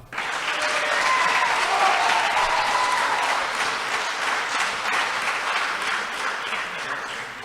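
An audience at a 2017 general election hustings in Dunoon applauds and cheers loudly, a sustained burst of clapping that swells then slowly tapers off, with no speech over it.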